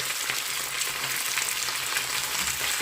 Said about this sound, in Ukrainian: Зараз поки що ми її тільки обсмажуємо.